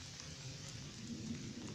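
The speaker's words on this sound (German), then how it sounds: "da es jetzt schon wieder regnet" Rain falls steadily outdoors, a soft, even hiss of drops with a faint low rumble beneath, quiet and continuous with no voices.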